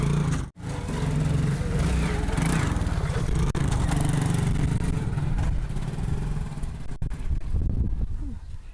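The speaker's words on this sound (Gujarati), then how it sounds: "મોટરસાયકલ કેવું આંચકા મરવે" A motorcycle engine runs loudly and close by, rumbling with jerky, uneven revs and a brief cut early on.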